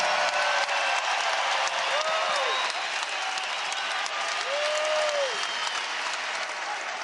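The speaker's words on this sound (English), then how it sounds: "Listen to this crowd respond to Hassan Diarra." Applause at a UConn versus Seton Hall college basketball game rolls through the arena for Hassan Diarra as a dense, sustained wash of clapping and crowd noise, with faint whistles riding on top throughout.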